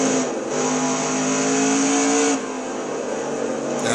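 In-car race car engine in fourth gear at Le Mans, a loud, steady high-pitched drone that holds constant, then drops slightly in pitch partway through, close and continuous.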